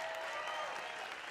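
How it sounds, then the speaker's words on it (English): Crowd at a live event gives a brief burst of dense, steady applause at an even level throughout. "Let's give them a round of applause."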